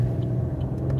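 A truck rumbles past close on the road, a steady loud low drone heard from inside a moving vehicle, with no talk.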